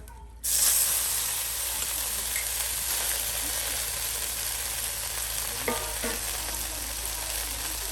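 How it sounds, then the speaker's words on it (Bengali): Bottle gourd leaves (lau shak) fry in a hot pan with a sudden loud sizzle that settles into a steady hiss, with occasional stirring scrapes near the end. "এই যে এখন লাউ শাকও ভেজে নেওয়া হবে।"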